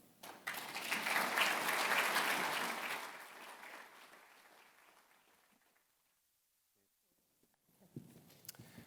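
Audience applause welcoming Reverend Kevin Fear as keynote speaker at an annual professional conference, a loud swell of clapping that fades out over several seconds, followed by brief quiet and a faint stir.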